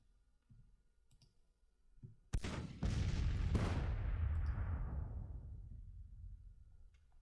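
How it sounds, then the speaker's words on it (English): Artillery battalion fire in the Grand Tactician Civil War strategy game: a few heavy booms in quick succession, then a long rolling rumble that slowly dies away over faint background ambience. "First shots are fired coming from Kemper's artillery battalion"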